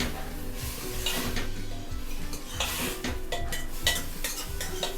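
A spoon stirs sambhar in a pot with repeated scraping clinks and knocks against the metal, close and rhythmic, with a faint sizzle underneath.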